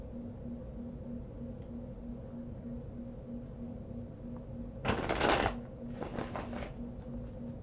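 Tarot cards shuffled in two bursts, a longer riffle followed by a shorter flurry of card flicks, close and clear over a low steady hum.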